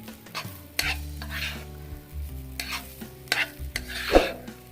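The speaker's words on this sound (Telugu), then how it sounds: "దీన్ని హై ఫ్లేమ్ మీద టాస్ చేసుకుంటూ ఉండండి. హై ఫ్లేమ్లో పెట్టుకొని మీరు కలుపుకుంటూ ఉండండి" Vegetable fried rice tossed and stirred in a pan over high flame, with a continuous sizzle broken by repeated scraping strokes and clanks of the spatula at an irregular rhythm, up close with no talking.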